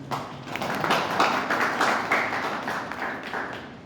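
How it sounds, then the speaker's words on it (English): An audience at a Shivrathri celebration applauds, a dense, steady burst of many hands clapping together that swells and then slowly tapers over a few seconds. "Give a big round of applause to them."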